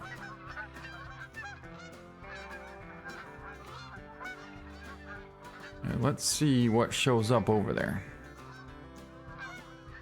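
Geese in the hunting game Call of the Wild honk in a loud burst of several calls amid ambient outdoor game sounds, while someone talks over the scene.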